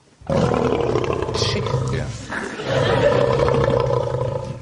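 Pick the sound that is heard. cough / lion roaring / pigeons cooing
lion roaring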